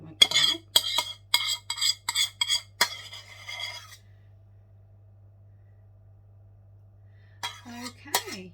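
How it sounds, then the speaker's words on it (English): A spoon scrapes repeatedly inside a container, a quick run of close, sharp metallic scrapes and clinks, then quiet, then a few more scrapes at the end. "you need a spoon, because typically there's one bit that won't come out"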